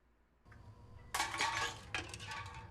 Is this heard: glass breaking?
yes